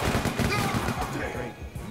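Rapid gunfire from the Resident Evil: Operation Raccoon City video game, dense bursts of shots crackling continuously for two seconds with some voice mixed underneath.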